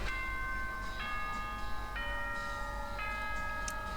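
Chime from the Danganronpa video game school broadcast: four bell-like tones at steady one-second intervals, each ringing and sustaining over a low background rumble, clear and moderately loud.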